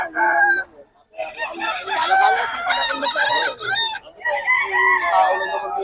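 An Early Bird WPC rooster at the Bocaue market crows loudly and close, giving several strained, drawn-out calls one after another with short breaks and faint clucking between them.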